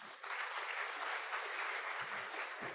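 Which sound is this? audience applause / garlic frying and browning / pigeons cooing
audience applause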